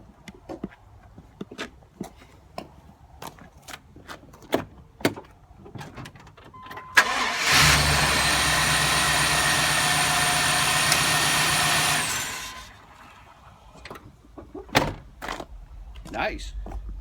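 A car with a cranks-but-won't-start fault turns over and fires into a steady idle for several seconds, loud and close, before it shuts off, with scattered clicks and handling noises before and after.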